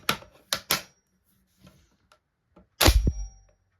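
A Bren gun is cocked and dry fired a second time at close range, with three quick metallic clicks, a few faint handling ticks, then one loud clanking snap that rings briefly.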